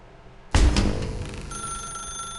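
A telephone in a video game sounds after an abrupt start, a loud bright ring that decays into a sustained tonal hum and thin high tones, close and alone without talk.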